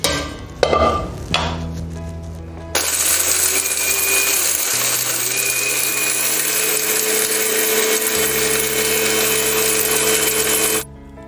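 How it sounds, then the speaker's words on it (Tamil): A kitchen mixer grinder grinding roasted biryani masala spices: a few rattling knocks as the jar is set, then a loud steady motor whine that shifts pitch partway through and cuts off abruptly at the end. "வறுத்து வச்ச மசாலா பொருட்களை மிக்சியில் போட்டு அரைக்க போகிறோம்."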